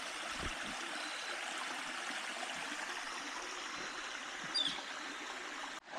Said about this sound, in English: we actually are just leaving along a pretty decent little creek or river called Hurricane Creek